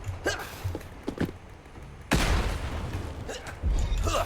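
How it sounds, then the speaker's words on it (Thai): A thrown bomb explodes in the video game Propnight as a loud, close boom with a long rumbling tail, and a second heavy thump follows shortly after. "แค่เราปาระเบิดไปครับ"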